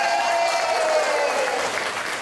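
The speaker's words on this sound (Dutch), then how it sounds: "Ik vond het applaus eigenlijk wel leuk. Doe nog maar een keer." Audience applause in a theatre, a short dense burst of clapping from a crowd that holds steady and fades slightly at the end.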